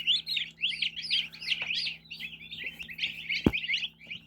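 Many tiny turkey poults peep and chirp rapidly in a busy chorus inside a full incubator, close and fairly loud, with a single sharp knock partway through.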